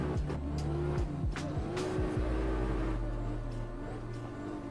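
Nissan S15 drift car in Assetto Corsa on the Bikernieki race circuit, its engine revving hard with rapid rising and falling pitch sweeps as it initiates a drift, then settling into a sustained loud drone with tire noise.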